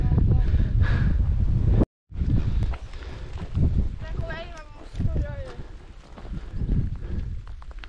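Strong wind buffets the microphone with heavy low rumbling gusts while people talk over it outdoors at a nature reserve in Sicily.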